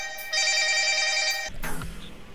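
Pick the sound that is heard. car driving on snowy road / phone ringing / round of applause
phone ringing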